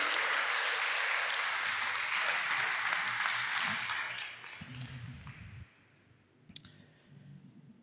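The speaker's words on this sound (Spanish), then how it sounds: "dale un gran aplauso al Rey de Reyes y Señor de Señores." Congregation applause during a church sermon, with dense, bright clapping from a crowd that holds strong for about four seconds, then fades out into a few scattered claps and brief voices.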